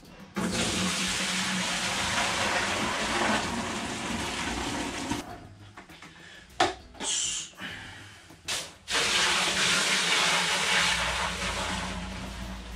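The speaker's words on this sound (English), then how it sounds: "just let the Star San pump all the way through the system and out" Star San sanitizer solution pumped through an all-grain home brewing system: a loud, steady rush of flowing liquid that stops for a few seconds with a few brief splashes, then resumes just as strong.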